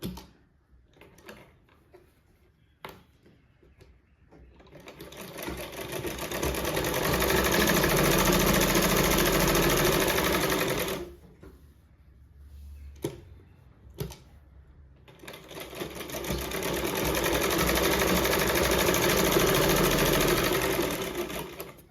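A sewing machine stitches cut sleeve pieces for a garment in two long, loud, steady runs, separated by short pauses with light handling clicks and taps.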